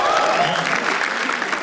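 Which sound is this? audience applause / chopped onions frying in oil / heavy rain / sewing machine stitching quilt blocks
audience applause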